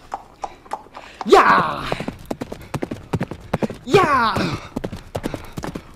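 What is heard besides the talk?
horse hooves clip-clopping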